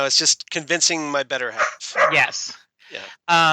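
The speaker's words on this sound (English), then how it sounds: "I am babysitting my son's dog, and he is barking at shadows." A son's dog barks at shadows in the background of a home while people talk over it, with short yips breaking through the speech.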